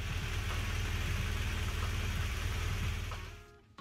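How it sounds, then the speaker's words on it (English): A 2015 BMW R1200 RT motorcycle engine idles at a steady low, throbbing rumble for several seconds, then cuts off and fades near the end. "start your bike and let it run for a bit so that it gets to operating temp"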